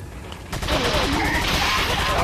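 Sustained gunfire from mowing down enemies in Resident Evil 4 VR, a dense rolling fusillade of rapid shots that builds after a quieter opening and stays loud and close throughout.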